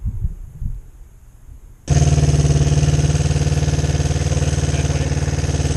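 After a quiet moment, a 2005 Kawasaki Ninja 250 motorcycle engine roars to life and keeps running loud and steady at a high idle around 5,000 rpm, close by, with smoke from the exhaust.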